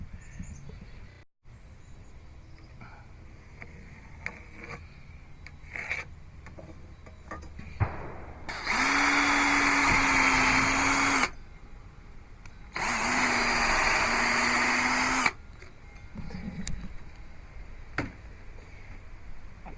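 An electric drill pre-drills screw holes in wood in two steady whirring bursts of a few seconds each, close, separated by a pause and surrounded by quieter workshop knocks and handling.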